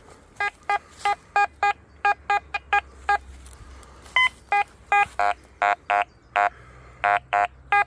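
Quest X10 Pro metal detector on channel 5 giving repeated short electronic beeps in an irregular rhythm, about twenty buzzy tones over a low hum, near and clear with no talking.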